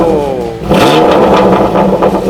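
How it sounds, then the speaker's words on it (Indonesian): A car with an aftermarket performance exhaust revs up sharply from idle, a loud close engine roar swelling after a brief dip and holding high. "Itu suara knalpotnya."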